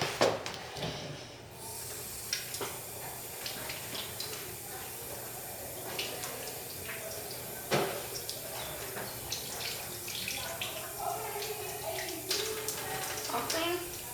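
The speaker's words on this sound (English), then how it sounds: "let's wash our hands real quick." Hands being washed under a running tap at a sink, a steady hiss of flowing water with small splashes throughout, while an adult and someone talk over it.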